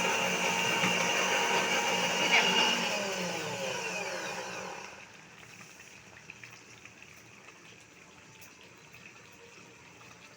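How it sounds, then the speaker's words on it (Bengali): A kitchen mixer grinder whirs loudly while grinding meat, a dense, steady motor roar that cuts off about halfway through, leaving quiet room tone. "মিক্সি মনে পিষে নিচ্ছে"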